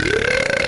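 A loud, drawn-out burp after drinking Fanta, a single continuous eructation with a sliding pitch, close and alone.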